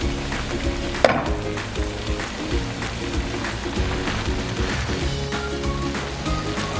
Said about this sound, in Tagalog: ihalo lang natin siya ng mabuti